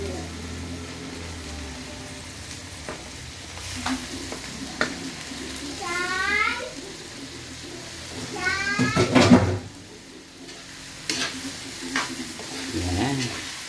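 Large shrimp dropped into a hot pan for buttered shrimp, hissing and sizzling steadily with stirring scrapes and a few clattering knocks. A cat meows close by in the middle, and faint talk can be heard under the frying.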